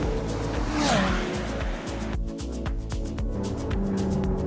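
A McLaren Artura supercar drives hard on Sepang circuit, its engine roaring loud and close with tires squealing through a corner, then revving through gear changes.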